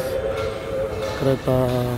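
A train at Manggarai station in Jakarta rumbles steadily on the track, then sounds two short tonal horn blasts near the end. Someone speaks briefly.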